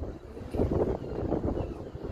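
Strong wind on the northeast coast of Iceland at Húsavík buffets the microphone with a low, rumbling roar that swells and eases continuously.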